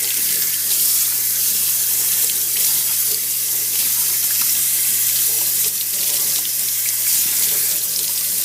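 A kitchen sink tap runs steadily while coffee-dyed Aida cloth is rinsed under cold water, a continuous close, even splashing hiss of flowing water with no talking throughout.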